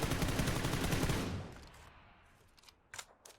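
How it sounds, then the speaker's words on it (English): A sustained burst of automatic spray fire in PUBG, rapid dense shots for about a second and a half, then a fading echo tail and a couple of faint clicks, with no talking. "I've shot 1 to 4 bullets at approximately the same spot"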